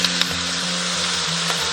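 Boneless chicken feet sizzle loudly in sauce in a hot wok, a steady close frying hiss broken by faint scraping stirs, with no voices.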